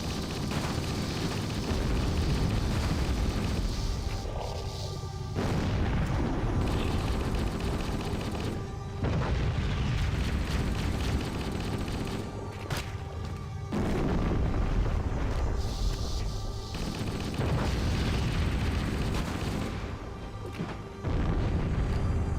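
A grenade goes off in Halo: Combat Evolved amid a continuous loud wash of game combat, with heavy booming blasts and crashes recurring throughout, and no talking.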